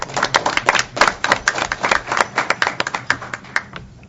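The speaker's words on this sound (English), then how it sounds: "I think he deserves a round of applause for creating this forum today." Scattered clapping from a small group at a roundtable forum on diversity and government advertising, uneven individual claps close by that keep going loosely and thin out toward the end.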